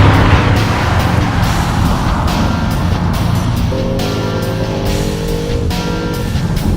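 Audi RS7 in dynamic mode, a continuous engine drone with road and wind rumble under acceleration, heard steadily from inside the car with no talking.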